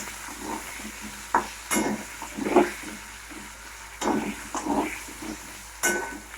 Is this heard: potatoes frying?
yes